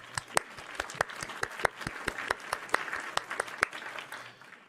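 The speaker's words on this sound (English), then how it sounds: "Applause to Juan for that." Scattered, distinct hand claps from a small group at an online community Q&A, steady and fairly quiet, about twenty sharp slaps over several seconds with no talk.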